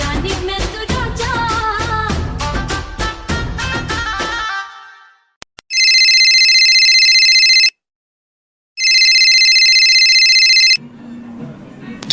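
A mobile phone ringtone follows a burst of music that stops abruptly: two loud, sustained electronic tone bursts a second apart, then quiet, and a faint voice begins at the end.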